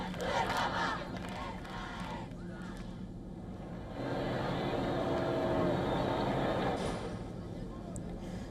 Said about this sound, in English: People cheer as the Pope arrives in his Pope Mobile, waving flags, throwing flower petals and shouting, "Long live the Pope!"